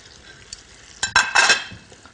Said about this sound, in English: Carefully return the meatballs to the pan.